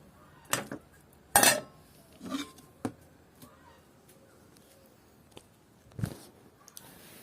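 A lid clanks onto a pot of prawn curry amid a few metallic knocks and clinks of kitchen utensils, scattered sharp hits separated by quiet gaps.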